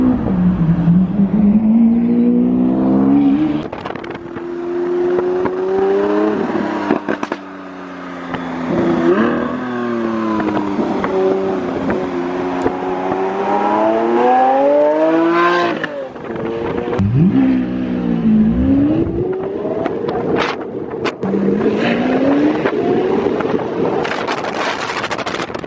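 A Lamborghini Aventador S driving on the road, its engine revving up and down through repeated gear changes, loud and close with rising and falling pitch sweeps, brief lifts off the throttle, and some wind buffeting.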